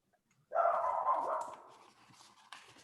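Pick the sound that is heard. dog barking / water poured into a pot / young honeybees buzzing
dog barking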